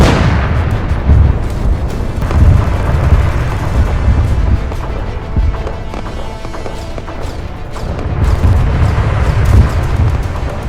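Tank cannon fire in a North Korean attack on South Korea's 1st Division booms loudly in repeated heavy blasts over continuous rumbling battlefield noise, with no clear speech.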